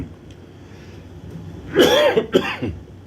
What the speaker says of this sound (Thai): จะมีเสียงกระแอมกระไอ